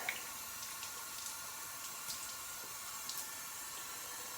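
A squid tube is rinsed under a running kitchen tap, giving a steady, soft hiss of flowing water with faint splashes and no talking.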